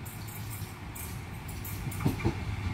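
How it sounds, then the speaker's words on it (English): A Hamilton Newcastle bound NSW Trainlink Oscar train arrives at a platform at night, a steady low rumble and hiss of wheels on rail with a couple of heavier clunks near the end. "Here we have a Hamilton Newcastle bound Oscar arriving into platform number 2."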